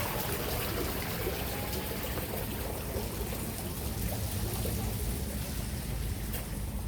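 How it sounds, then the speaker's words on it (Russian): Water gurgles and trickles steadily through a small irrigation channel under a footbridge in a park in front of a mausoleum, a continuous close-up babble with no one talking over it. "И вниз слышно, как вода и журчит"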